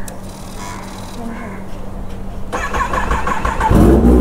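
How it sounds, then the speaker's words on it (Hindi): A 2022 Kawasaki ZX-10R fitted with an SC Project exhaust cold-starts indoors in a building: a starter whirr, then the engine catches and revs into a loud, rising, crackling roar close by. "एक बार साउंड सुनो, रिएक्शन देखो बच्चे का, क्या ही साउंड आता है भाई कोल्ड स्टार्ट का"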